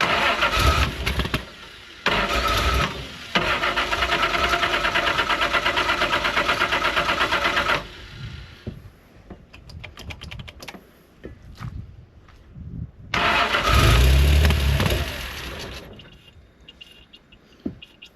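Reliant Scimitar GTE engine being cranked in repeated bursts by the starter, a loud rhythmic churning that stops and restarts after pauses, with a stronger surge late on as it tries to catch.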